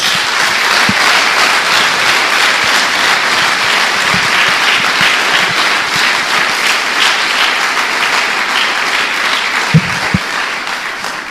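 A church congregation applauds loudly and steadily, dense clapping filling the room without letup and tapering slightly toward the end.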